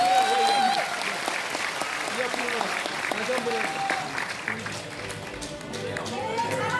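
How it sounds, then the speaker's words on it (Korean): An audience at a political party launch ceremony claps steadily for several seconds. The applause is thick and continuous and fades slightly toward the end, with a voice sounding over it. "함께 손을 올려 화답하는 이 청년들에게 큰 박수를 보내주시기 바랍니다"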